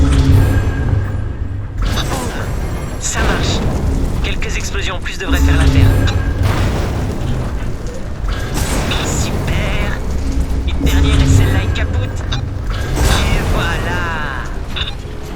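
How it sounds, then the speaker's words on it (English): Explosions in the video game Tchia, several booming bursts spaced through the passage, mixed with game music and effects while a person talks over them. "Quelques explosions en plus devraient faire l'affaire."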